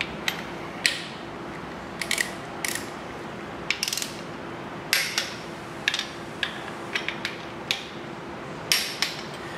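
A ratchet tightens the motor mount bolts on a Chevrolet 454 big block engine, giving short bursts of sharp clicking with pauses between strokes. The clicks are close and loud, with no talking.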